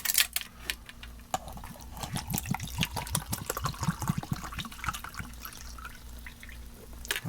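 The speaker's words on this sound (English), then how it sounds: "let's measure out our water" Water for an Italian Alpine Army 24-hour ration is poured out to measure it, giving a steady run of glugging, splashing pulses that fade to a light trickle, close with no talk.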